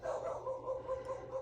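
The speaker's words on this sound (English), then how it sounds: "And there goes my little guy barking" A small dog barks and yips in a home craft room, a quick string of short, moderately faint barks with a whimpering edge, heard alone without talk.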